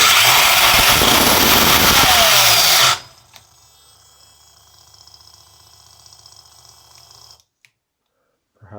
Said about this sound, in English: we will hear the car shifting